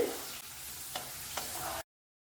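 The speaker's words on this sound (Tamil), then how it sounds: "எண்ணெய் நல்லா சூடானதும் நம்ம ரெடி பண்ணி வச்சிருந்த இந்த சக்கரவள்ளி கிழங்கு எல்லாத்தையும் ஒன்னொன்னா போட்டு ஃப்ரை பண்ணிக்கலாம்." Sweet potato slices fry in hot oil, giving a soft, even sizzle with two brief clicks like a utensil touching the pan. The sound is fairly quiet and stops abruptly, followed by silence.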